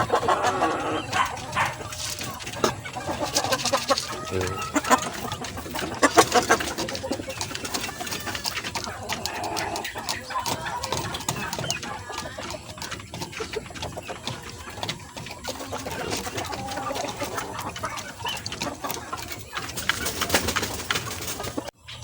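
Chickens feeding in a home yard, with a steady busy mix of pecking, scratching and soft clucks close by, birds and a dog faintly in the background, continuous for the whole stretch.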